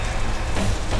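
Steady rain falling and pattering on surfaces in a Tamil drama scene, a dense continuous hiss with no voices.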